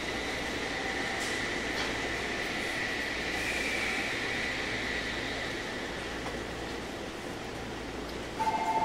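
A JR Central 313 series 1100 electric train departs on the Tokaido Line, rumbling steadily at a moderate distance, a continuous low drone with a faint whine, and a short beep near the end.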